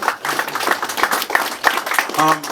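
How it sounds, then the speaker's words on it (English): A crowd at a boxing weigh-in for Dr Ali Muhammad and Brother Polight claps in scattered, uneven bursts, individual hand claps standing out sharply, with a few voices calling out between them. "we need to give him a round of applause for the work that he do"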